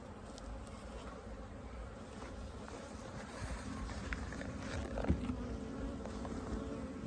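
Honeybees droning steadily around an open hive during an inspection, a dense, even buzz that fills the whole stretch with a few nearer passes and one brief knock; no talking.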